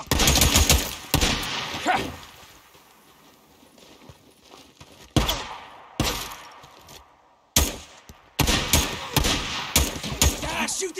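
Gunfire in the Days Gone video game comes in loud rapid bursts with sharp sharp cracks, separated by quieter stretches and a brief silence, close and without voices.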